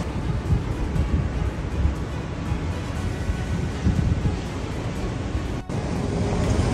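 Heavy storm surf and strong wind from Hurricane Milton on the US coast, a continuous loud roar of crashing waves and gusting wind buffeting the microphone, with no voices.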